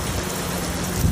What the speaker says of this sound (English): That's a bad rainstorm.